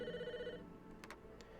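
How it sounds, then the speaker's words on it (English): Telephone ringing in the Famicom Detective Club video game, a steady electronic ring tone for about half a second followed by a few short clicks, alone with no talk. "Oh, phone. The phone."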